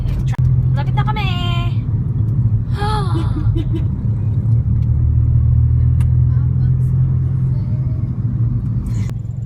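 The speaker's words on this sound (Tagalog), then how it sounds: "Oh my gosh, traffic." Heavy, constant low rumble of slow road traffic heard from inside a vehicle, with a steady engine drone and people's voices chattering over it in the first few seconds.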